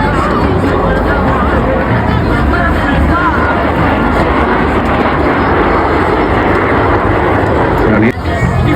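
Military aircraft from North Wales Military Aviation Services fly at the Blackpool Airshow, one fitted with wing fuel tanks feeding a smoke system. The engine roar is steady and continuous under a murmuring crowd, with no break throughout.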